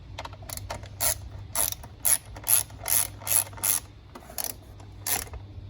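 A ratchet with a 3/8 Allen bit clicks in a run of sharp, evenly spaced bursts while snugging valve cover bolts on a Toyota Camry engine, close and loud with no talking.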